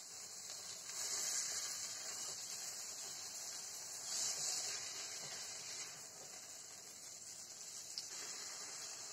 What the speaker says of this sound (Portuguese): Agora a gente deixa a vagem refogar um pouco para pegar bem o sal e